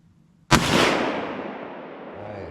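A single shotgun blast from a youth hunter on a hunt cracks out sharply and close, then rolls away in a long fading echo over open ground.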